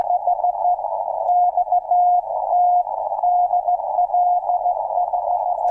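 Ham radio CW Morse signal, a single steady sidetone beeping out dots and dashes in an unbroken keyed rhythm, loud and clean through the radio with no voices over it.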